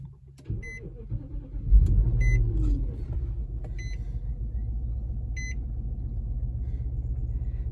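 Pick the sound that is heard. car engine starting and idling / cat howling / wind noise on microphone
car engine starting and idling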